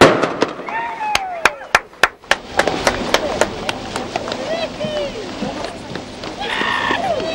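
A string of sharp race signal gunshot cracks at an Express-class sailing boat race, quick at first and then more spaced out, over outdoor background noise and faint voices.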